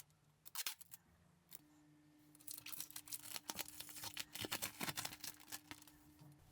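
Scissors cutting out paper star templates taped over with sticky tape for gingerbread cookie shapes, a few sharp close snips followed by a busy run of crisp cutting and rustling paper, quiet and alone.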